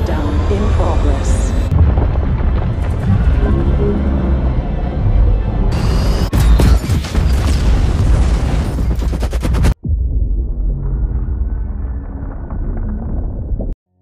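A cinematic explosion and core meltdown destroys a deep-sea underwater station in the film Underwater: a loud, dense, sustained roaring rumble with crashing bursts, a sharp cutoff near ten seconds, then a deep lower rumble continuing to the end.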